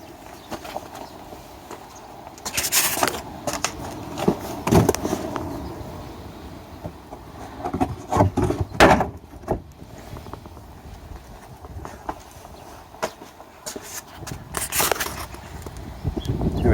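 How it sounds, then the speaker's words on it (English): Plastic clips release with sharp cracking pops as a car's bumper is pulled off by hand during parking-aid repair work, several distinct snaps spaced out over a low background rustle, with no talking. "There we go, bumper's coming off."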